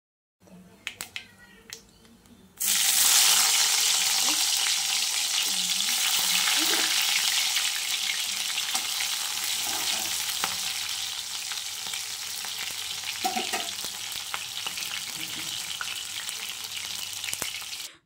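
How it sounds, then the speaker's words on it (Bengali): Leafy greens sizzle loudly in a wok of hot white oil mixed with a little mustard oil, a steady bright crackle that starts suddenly and continues close up for about fifteen seconds, with occasional stirring clinks. "তেলটা আমি ঢেলে নিয়েছি, কিছুটা তেল সাদা তেল ছিল, তার মধ্যে একটু সরষের তেল দিয়ে শাকটাকে বসিয়ে দিলাম"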